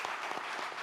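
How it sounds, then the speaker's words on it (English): Audience at a Mumbai regional solution summit gives a round of applause, a steady wash of clapping filling the whole brief moment with no speech over it. "I would request all of you to give a real round of applause to Hafiz"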